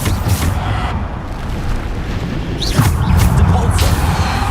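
Bombarda blasting spells from Hogwarts Legacy burst in a dense flurry of booms, whooshes and crashes, loud and close, with a heavier impact a little past the middle.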